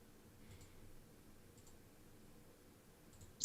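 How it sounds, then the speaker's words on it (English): A computer mouse gives a few faint, isolated clicks spread through a quiet room, with a sharper click at the very end. "I'm clicking on the wrong thing."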